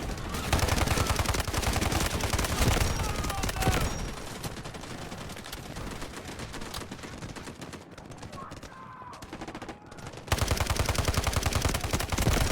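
Rapid bursts of automatic gunfire in the online shooter Delta Force, loud and sustained across the clip with brief lulls, with a player talking now and then over the shots.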